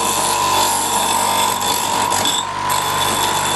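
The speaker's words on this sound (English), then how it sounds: "And I'll just dress that with the grinder, and then I should be able to get the nut off quite easily." Fine grinding wheel dressing a nut on the thread of a vintage cast iron meat grinder: a continuous high whine with a faint steady hum underneath, holding at an even level from start to finish.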